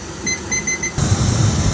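A phone alarm set for 40 minutes sounds as a short run of repeated electronic beeps in a kitchen where food is boiling, followed by a steady low rumble of background noise.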